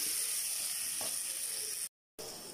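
A steady, close sizzle of onions frying in a hot pan, with a faint scrape partway through and a brief cut to silence near the end.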